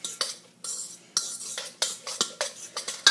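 A fork scrapes and clinks against a bowl while mixing cauliflower rice, cheese and beaten egg, quick irregular strokes with short pauses, close and clear.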